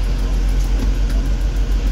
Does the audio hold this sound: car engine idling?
yes